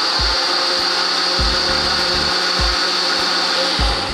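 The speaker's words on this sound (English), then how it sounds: "We're gonna stick it back on the blender just for about 30 seconds to get nice and mixed in there." A countertop blender whirs loudly and steadily as baking powder is mixed into a beaten egg mixture, with a low rhythmic thumping pulsing beneath the constant motor whine.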